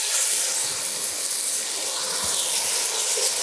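White sparkling wine poured into a hot pan with mushrooms, hissing and steaming loudly and continuously, close up, for a few seconds with no voices.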